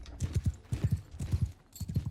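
Horse hooves galloping in Mount & Blade II: Bannerlord, a medieval combat game, with rapid clip-clop beats in repeated clusters of three or four, loud and close, with a faint whinny and no talk.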